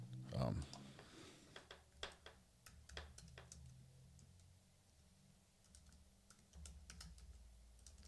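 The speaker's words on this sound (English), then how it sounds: "I'm going to start typing these." Keys clatter on a computer keyboard in bursts of quick, irregular clicks at close range, faint overall, with a brief louder thump at the start and a low room rumble.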